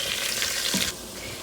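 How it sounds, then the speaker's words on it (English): Eggplant and potato sautéing in a hot pan with a steady sizzle and stirring noise that cuts off abruptly near the end. "And now I'm gonna add the baingan and the potato. And first of all, we're gonna let this saute just for about a minute or so."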